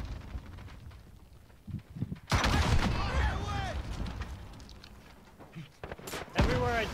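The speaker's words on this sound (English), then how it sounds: "Everywhere I turn, there's a goddamn explosion." Explosions and gunfire in a riot-shield and RPG online shooter match, several loud blasts and bursts rising over a noisy backdrop, with a player talking over the action.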